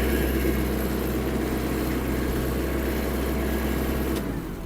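A Kubota L1-325 mini tractor engine runs steadily at close range with a low, constant drone while reversing, then cuts off sharply near the end.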